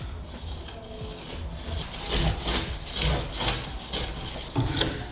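A clothes iron is pushed back and forth over wax on a ski base, giving soft, close scraping and rubbing strokes that rise and fall in a loose rhythm.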